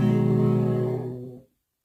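The Super Mario Bros. jump sound, pitched two octaves down, plays alone as a single low, buzzy tone with a wavering pitch that holds for over a second before fading out.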